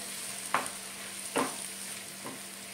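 Tomato being stirred and sautéed in a pan after onions while cooking a dhaba-style egg dish, with three distinct scraping stirs over a soft, steady sizzle.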